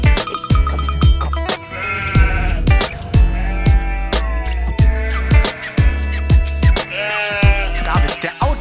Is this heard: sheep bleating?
yes